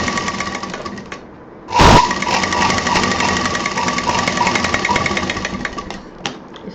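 A sewing machine runs steadily, stitching a zip onto the 8-inch section of a handmade handbag, its motor whirring continuously at close range with a sharp clunk partway through and no talking.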